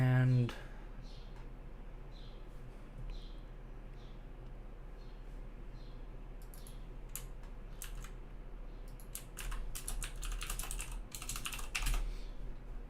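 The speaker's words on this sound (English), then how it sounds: "Sorry if you hear me typing." Typing on a computer keyboard comes in scattered clusters of quick, light key clicks, sparse at first and growing denser toward the end, fairly faint against a low steady background hum.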